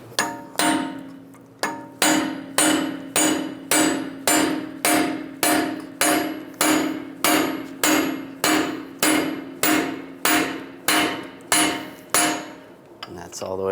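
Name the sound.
hammering a punch through the strut knuckle center axle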